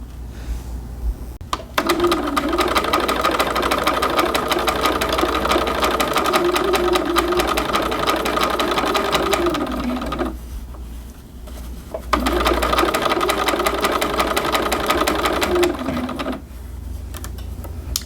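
A sewing machine stitches in the ditch along the waistband of a pair of shorts, running in two long steady whirring passes with a brief pause between, close and loud, with no talking.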